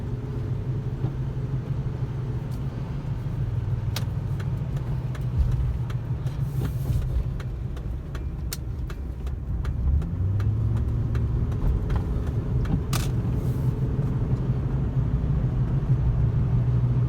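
A 2005 Ford Explorer Sport Trac Adrenalin pickup cruises on a freeway, its engine holding a steady low drone under road and tire rumble, with a slight rise in revs partway through and loose items in the truck bed.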